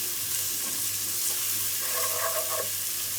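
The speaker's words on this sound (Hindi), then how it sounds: "यहाँ पर हमारी प्याज़ें फ्राई हो गई हैं" Onions frying to a light golden colour in a pan for achari chana daal gosht, a close, steady sizzle with a brief stirring scrape.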